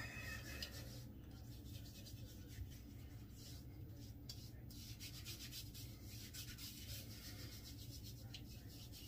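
Shaving lather and pre-shave are rubbed into skin by hand, a close, soft, continuous brushing friction with faint rhythmic strokes.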